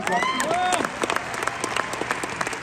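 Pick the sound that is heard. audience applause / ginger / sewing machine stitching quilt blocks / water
audience applause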